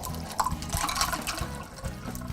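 A margarita being poured out at a restaurant, a brief liquid splash and trickle lasting about two seconds, moderately close, with no talk over it.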